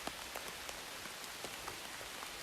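Steady rain patters on surfaces at a lakeside campsite on Susan Lake in Algonquin Park, a dense, even hiss with scattered close drops throughout, no voices.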